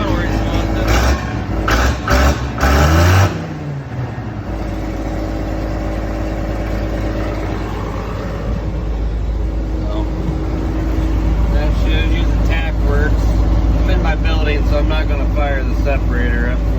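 Diesel engine of a John Deere 4420 combine running at a steady rumbling idle, loud and close, after a few seconds of clattering handling noise at the start; it continues alone with no talking.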